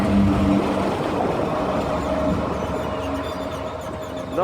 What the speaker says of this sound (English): Oh, you can hear the fans going.